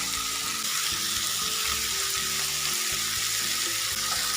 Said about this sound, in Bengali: এবার শাপলার সঙ্গে বেশ কিছুক্ষণ সময় এভাবে ভেজে নেব